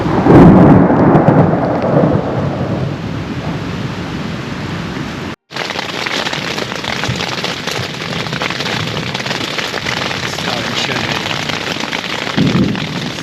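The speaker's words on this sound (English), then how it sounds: "It's very heavy with lightning and thunderstorm." Heavy thunderstorm at a camp in Algonquin, a loud rolling thunder rumble at the start over a constant roar of pouring rain, which continues dense and steady after one brief cut, with another low rumble near the end.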